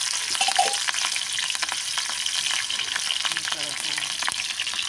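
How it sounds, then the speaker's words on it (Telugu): Green chillies frying in hot oil in a kitchen pan give a steady, close sizzle with crackling pops and some stirring throughout, and no one speaks. "ముందుగా పచ్చిమిరపకాయలు వేసుకుంటామండి"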